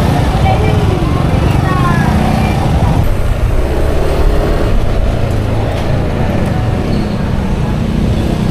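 Cars and buses crawl through congested road traffic in Navotas, a continuous loud rumble of engines and tires close by, with people talking amid the passing vehicles.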